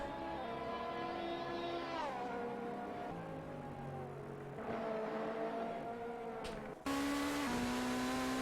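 A Ferrari 458 GT3 engine howls in a racing video game at Mugello, its steady high whine climbing and dropping through gear shifts, then jumping in pitch and loudness near the end.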